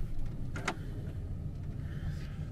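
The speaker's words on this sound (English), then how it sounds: "Yeah, I'll just shut the door." A vehicle door on a wild camp on Exmoor is pulled shut, giving a single short thunk with a rattle and a faint mechanical whir after it, over a low steady rumble.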